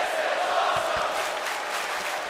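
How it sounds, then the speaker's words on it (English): Live crowd cheering in the WWE 2K24 wrestling video game, a steady, dense roar of arena crowd noise with a couple of faint low thumps early on, held at an even level without talk. "a live crowd doesn't get any hotter than this"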